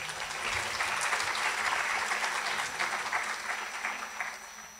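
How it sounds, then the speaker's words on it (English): Lecture-hall audience applauding steadily, a dense wash of clapping hands that holds at full strength for about five seconds before easing slightly at the end. "so let's give them a round of applause"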